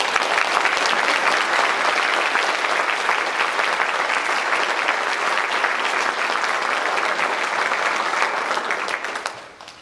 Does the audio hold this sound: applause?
yes